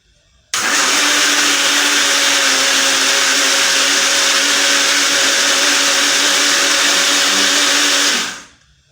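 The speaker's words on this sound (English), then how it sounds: "But I use the blender because it's faster." A blender mixing mayonnaise whirs loudly and steadily for about eight seconds, a constant high motor drone that starts abruptly and cuts off at the end.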